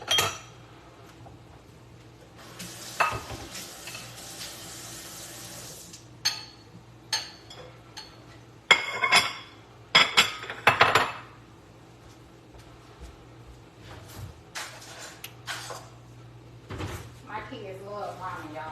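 Dishes clink and knock in a home kitchen as a bowl is pulled out while cooking shrimp ramen, with a sliding scrape early on and scattered sharp clatters through the middle, fairly close, between stretches of quiet.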